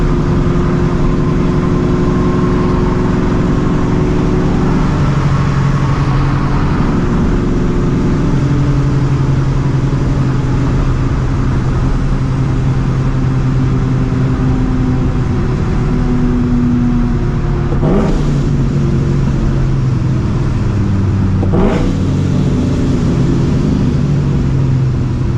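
A supercharged 450 hp 2V Ford Mustang GT with an aggressive McLeod clutch drives along, its engine droning loudly and steadily from inside the car, with pitch shifting through gear changes and a couple of brief clunks.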